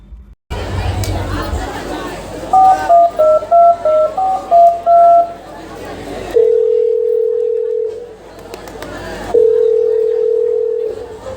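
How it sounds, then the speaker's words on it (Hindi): A telephone gives a series of short dialing beeps followed by long steady dial or ringing tones with pauses between them, heard during a staged drama amid crowd chatter and a voice. "पाकिस्तान लड़की साहिब खां साईजन खे फोन लॻी वियो।"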